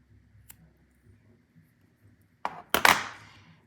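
Silk beading thread trimmed close to a knot in a clamshell bead tip on a knotted pearl bracelet, heard as a couple of sharp scissor snips close by after near silence, with no one talking.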